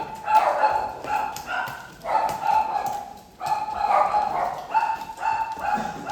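Dogs bark repeatedly in irregular bursts at a moderate distance, several barks overlapping, with faint background noise between them.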